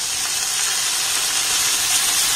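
Chopped tomato and onion frying in a hot pan, a continuous loud, bright sizzle and hiss that holds steady throughout, close up, with no voices.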